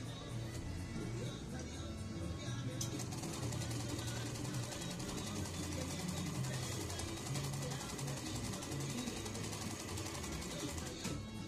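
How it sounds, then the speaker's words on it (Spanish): A Pfaff Hobby 303 sewing machine runs steadily through a three-step stitch seam, a continuous mechanical whir and needle clatter that holds for the whole stretch at moderate level. "Vamos a hacer la costura tres pasos"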